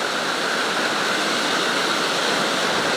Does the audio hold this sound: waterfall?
yes